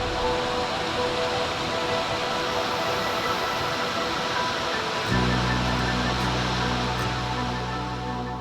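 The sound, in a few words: Cascade Creek flowing water near El Capitan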